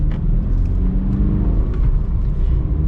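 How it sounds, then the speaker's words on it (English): A 2020 Subaru BRZ tS engine rumbles deep and close from inside the car during a rev-matched downshift, a steady low drone with slight rises in pitch. "that rev match is good"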